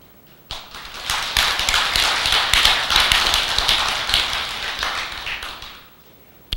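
A seated audience at a Buddhist monk's talk claps together for several seconds, a dense, steady patter of many hands that swells quickly and then tapers off.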